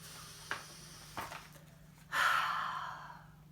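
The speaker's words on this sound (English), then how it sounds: "Take a deep breath." A storyteller takes one deep, breathy inhale that swells and holds for about a second, heard close and quiet with nothing else around it. Two soft small breaths come just before it.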